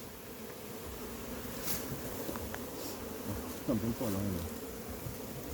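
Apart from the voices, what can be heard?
honey bees buzzing from a massive hive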